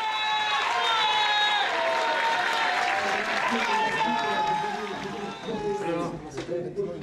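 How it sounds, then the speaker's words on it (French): Audience at a live show applauding and cheering as the performer leaves the stage, a dense steady wash of clapping with a tonal layer of music or voices over it that thins and breaks up near the end. "il quitte la scène sous les applaudissements du public"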